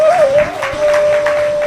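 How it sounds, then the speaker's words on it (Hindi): Audience applause at a Hindi spiritual discourse, a soft, thin patter of clapping lasting under two seconds beneath a steady sustained tone. "ताली कमजोर बजी है"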